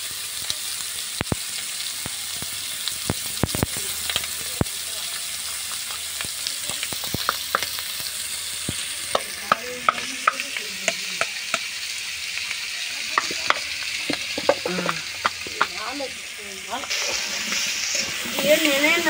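Spices and turmeric frying in a pan for a fish curry, a crackling sizzle with clicking spatula stirs, fairly busy and close, and a voice speaking partway through.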